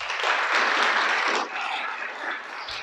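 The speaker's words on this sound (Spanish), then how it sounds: "Dale un aplauso al Creador." A crowd claps and cheers together in a steady wash of applause that fades slightly toward the end.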